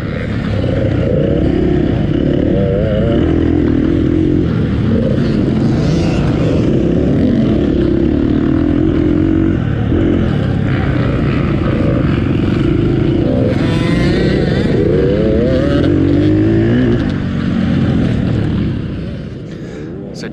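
A KTM 150 XC TPI two-stroke dirt bike revs hard at a trail-riders' hare scramble race, its loud, continuous engine drone rising and falling over about twenty seconds before easing near the end.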